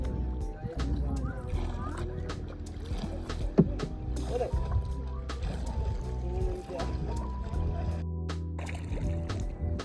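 A rowing boat on the lake at Pokhara, with oar splashes and water movement at close range beneath ongoing talk and wind noise.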